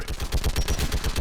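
Rapid automatic turret gunfire in the video game Mass Effect 3, a steady burst of evenly spaced shots, loud and close with no talk over it.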